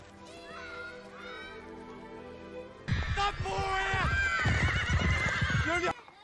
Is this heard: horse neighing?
yes